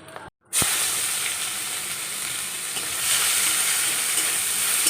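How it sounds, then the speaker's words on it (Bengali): Fish roe fried in a pan with salt and turmeric, giving a loud, steady sizzle and hiss close up that begins after a brief gap and runs on without a break. "একটু নুন হলুদ দিয়ে মাছের ডিমগুলো ভেজে নিলাম"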